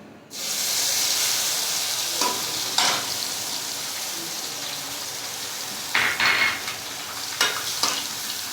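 Ginger-garlic paste frying in hot oil with red chillies, cardamom and cloves for a dum aloo curry, a steady sizzle with a few sharper crackles and stirring scrapes.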